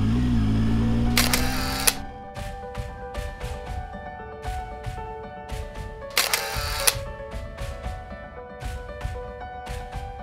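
A camera shutter fires in two quick bursts of rapid clicks a few seconds apart, followed by scattered single clicks. The shots are taken at a scenic viewpoint above Bear Lake, Utah, during a motorcycle trip, with a low outdoor rumble underneath.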